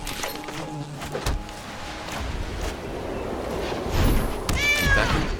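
A cat meows a few times from a cat card in the MTG Arena video game, short, fairly close cries set over a steady layer of game background sound.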